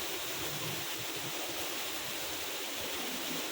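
Chantathen waterfall in Thailand roars with a dense, unbroken rush of falling water, loud and close, with no voices over it.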